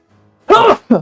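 A person sneezes during a tabletop role-playing session, a soft breathy intake followed by a sharp burst and a shorter second burst, close and loud, with no talk over it.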